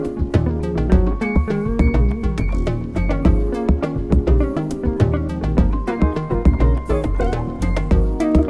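A loud, dense music loop arrangement in a production session with its bass part retuned by zplane Retune, driving rhythmic beats and layered tones playing continuously without any voice.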